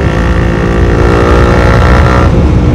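A Honda CBR150R fitted with a Daytona GP taper racing exhaust and dB killer revs hard, a loud, sustained buzzing engine note held steadily close to the microphone, with no talking over it.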